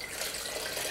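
Vinegar pouring from a bottle while it is being decanted, a steady soft trickling splash that runs continuously and fairly quietly through the moment with no talk.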